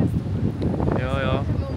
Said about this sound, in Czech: Dneska strašně fouká.